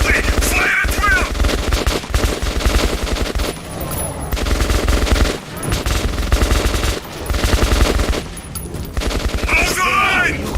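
Loud, sustained automatic gunfire fills a fight in the video game Metro 2033, with rapid bursts, brief lulls and shouted voices in between.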